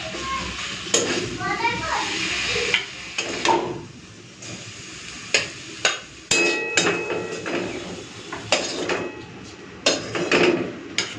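Cooked taro leaves with prawns being lifted from a pan, with a utensil clanking sharply against the metal in scattered knocks and scrapes, while someone talks nearby.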